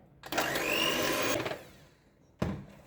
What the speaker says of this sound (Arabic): نبدا نخلط البيض تاعي هذا مع المكونات هذه